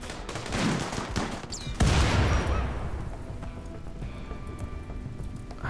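Gunfire in the video game RimWorld: a burst of rapid shots at the start, then a loud blast near two seconds that decays into a long noisy tail, with scattered crackling afterwards.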